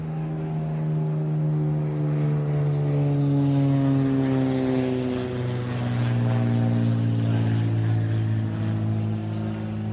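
A Voltbike Yukon 750 electric bike ridden on throttle alone with no pedal assist, its motor giving a steady, loud whine with rising and falling tonal harmonics throughout, with no talking.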